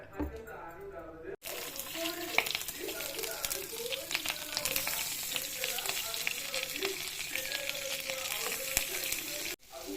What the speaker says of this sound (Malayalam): തോരൻ അരിയുന്ന സമയം നമുക്ക് ഇതാ മീൻ വറുത്തെടുക്കാം